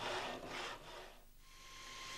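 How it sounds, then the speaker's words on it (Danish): A welded steel test bar is ground smooth, giving faint rasping strokes in uneven bursts with a brief pause partway through. "Prøvestangen skal slibes grundigt, så svejsesømmen fremtræder tydeligt"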